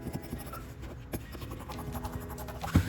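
Scissors snip and scrape through fabric interfacing for a kurti or shirt placket, producing soft, close cutting and rustling sounds with a few sharper clicks, no talking.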